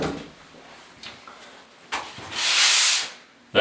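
Hand sanding of drywall in a basement bedroom renovation: soft scattered rubbing strokes, then one longer, louder hissing pass near the end, close by with no talk.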